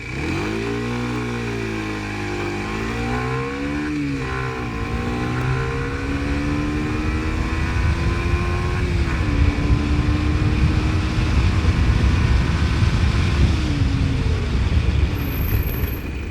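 A Kawasaki Ninja 125 motorcycle on a test ride, its engine note climbing and dropping through gear changes and then holding a steady drone, loud and close with wind rush, and no voices.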